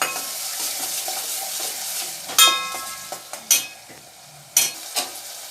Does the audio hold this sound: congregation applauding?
no